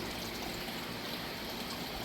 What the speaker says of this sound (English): This creek is flowing nicely,